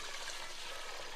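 Boiled water is poured into a pot for Kerala-style chicken biryani, giving a soft, steady, close-up stream of splashing liquid.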